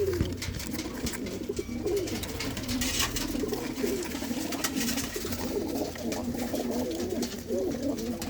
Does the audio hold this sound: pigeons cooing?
yes